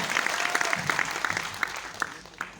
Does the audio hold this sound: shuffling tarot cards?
no